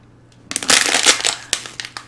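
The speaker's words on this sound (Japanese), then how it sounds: "ペットボトル、ペットボトルを潰した音ですよ。" A plastic PET bottle is crushed by hand, giving a burst of loud crackling crunches with several sharp crinkling peaks over about a second and a half, close and alone after a quiet start.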